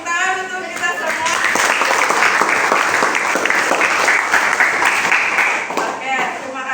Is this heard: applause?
yes